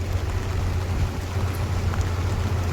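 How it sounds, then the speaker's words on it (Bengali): Rain falls on the Sundarbans mangrove forest at high tide, heard from a boat moving along the jungle edge: a steady, soft wash of drops over a low constant engine-like rumble, with no talk. "আমরা অবশ্য এই সময়ে বৃষ্টি আশা করিনি"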